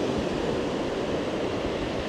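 Strong wind roars steadily across a Boracay beach under an overcast sky, a dense, constant rush with no distinct gusts and no voices.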